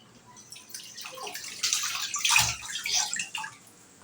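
Fish are washed by hand in clean water, giving close splashing and sloshing that builds to a louder burst of churning water and then settles.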